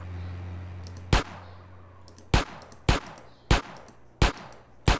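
Gunshots in the video game GTA San Andreas: five sharp, loud single shots spaced about a second apart, each with a short decaying tail, over a low steady game rumble.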